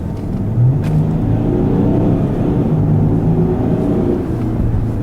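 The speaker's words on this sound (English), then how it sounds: "if this car accelerates." Range Rover accelerating on the road, a steady loud low engine rumble that rises slightly and holds, heard from inside the car with no talk.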